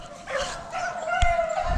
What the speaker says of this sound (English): We pretty sure the dogs will catch him